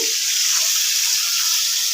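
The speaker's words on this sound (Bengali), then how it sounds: "ভাজছি" Food fries in a pan in a Bengali home kitchen, a loud, steady, dense sizzle that fills the whole moment up close, with no voices over it.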